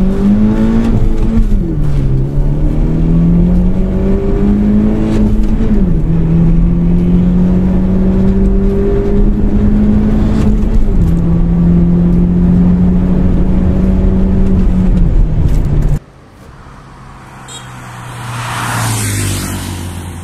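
A Genesis Coupe 2.0 and a BMW 520i drag racing at high altitude: a loud engine revs and climbs through several gear shifts with a strong rising whine, then cuts off abruptly, leaving a fainter car passing.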